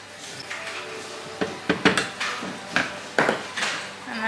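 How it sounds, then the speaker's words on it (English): Spatula or utensil stirring sauce into chicken and vegetables inside a Thermomix bowl, a series of irregular scraping knocks and clinks, fairly close and clear. "pour the sauce over the chicken and vegetables and then stir to combine"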